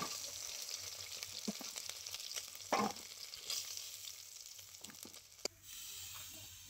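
Potatoes frying in oil already used for fish, a soft steady sizzle with occasional clinks and stirring knocks, fairly faint and close, with no talk.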